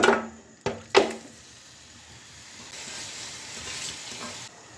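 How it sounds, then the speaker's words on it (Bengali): Beef pieces land in hot oil with fried onions, two sharp splashy bursts up front, then a softer continuous sizzle as the meat fries and is stirred; no talking. "মিক্স করে নেওয়া শেষ আমি এখন মাংসগুলো ঢেলে দেব"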